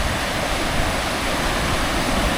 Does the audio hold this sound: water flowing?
yes